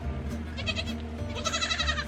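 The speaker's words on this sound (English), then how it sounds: "he's gonna pass me baby goats. Baby goat time." Baby goats bleat close by in a quick series of short, wavering cries, several calls overlapping against a low background rumble.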